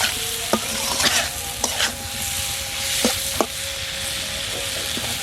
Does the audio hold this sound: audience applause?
no